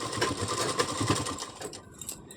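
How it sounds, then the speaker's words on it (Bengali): A sewing machine runs a straight stitch along a simple round-neck nightie, with a close, rapid, rhythmic mechanical whirr that slows and fades out near the end. "এবারে সোজা সেলাই দিয়ে নিতে হবে, এখানে আর কিছু করতে হবে না।"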